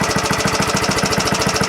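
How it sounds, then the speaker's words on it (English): The engine of a 1970 Rupp Scrambler minibike runs loud and close with a fast, steady, rough chugging, alone with no voices. "Engine breaks up every now and then for no reason."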